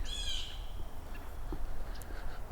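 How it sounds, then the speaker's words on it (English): A harsh, raspy blue jay call at the start, followed by a few fainter chirps against a low outdoor background. "Blue jay"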